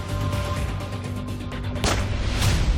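Heavy, low rumbling noise with a couple of sharp bursts near the end, like gunfire echoing nearby.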